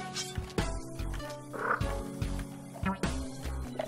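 Frog King enemy in the video game Spelunky, croaking in repeated deep, rhythmic pulses amid game music and effects, with someone talking in between.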